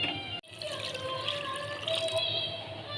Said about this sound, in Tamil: தண்ணி வந்து இந்த ஒரு கப்பில் ஃபுல்லாக வந்து ஒரு 2 கப் அளவில் போல் தண்ணி ஆட் பண்ணிக்க போகிறோம்